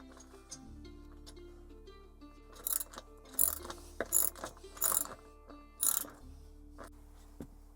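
A ratchet clicks in short bursts as a lock nut with a large flat washer is tightened on a rooftop tent bracket, several quick runs of close metallic clicking with brief pauses between.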